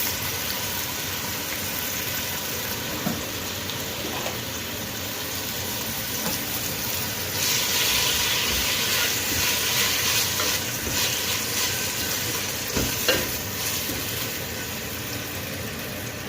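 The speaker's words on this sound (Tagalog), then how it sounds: "Gisahin muna natin tong baboy." Pork being sautéed and stirred in a pan for ginataang puso ng saging, a dense continuous sizzle with occasional scrapes and clinks of the utensil, close and steady, swelling louder partway through, no talking.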